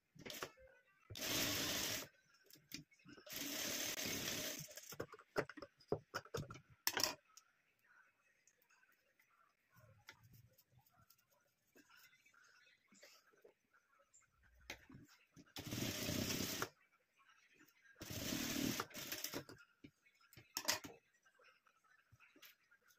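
A sewing machine stitches fabric for a flower in several loud, whirring bursts of a second or two each, separated by quiet pauses with faint handling noises and soft murmuring.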